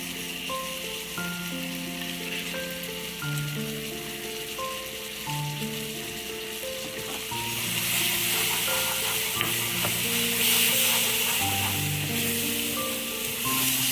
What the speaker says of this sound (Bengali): দিয়ে কিছুক্ষণ মতন এটা ভেজে নেব